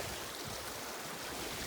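Steady broadband rushing of Etherington Creek flowing over rocks, continuous and fairly close, with no voices.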